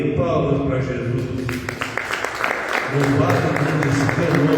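Congregation clapping during a church worship service, a steady rhythmic patter of many hands that carries on over singing and music, with a brief thinning before the sound swells again.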